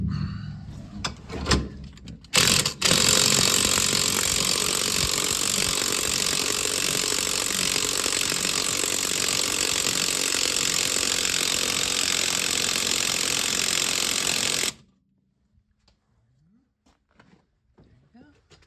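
A loud, steady power drill whine driving a car jack runs for about twelve seconds after a few short bursts, then cuts off abruptly to near silence.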